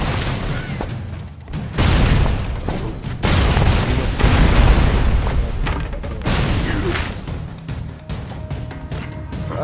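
Bombs explode in a video game in a loud, dense run of heavy booming blasts and rumbling crashes that crowd one another with hardly a pause.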